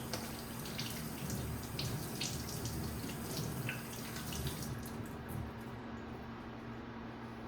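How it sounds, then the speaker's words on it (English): Running tap water pours steadily while hands are washed beneath it, a continuous close hiss and splash with small irregular splatters, fading slightly toward the end. "Wash my hands right quick."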